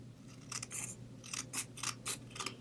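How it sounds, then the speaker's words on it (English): Scissors snip card stock in short, crisp bursts while fussy cutting around a printed pumpkin card design, about eight close cuts in an irregular rhythm against a quiet background. "I'm going to fussy cut this."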